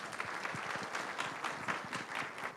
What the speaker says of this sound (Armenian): ձեր ծափահարություններով